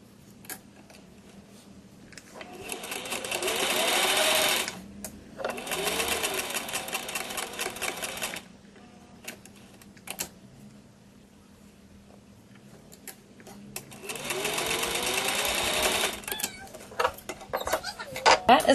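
Sewing machine stitching doll-sized yoga pants together, running in three bursts of rapid, even stitching separated by pauses, with quiet background sounds between runs.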